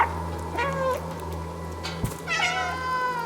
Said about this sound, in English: there's a designated meow button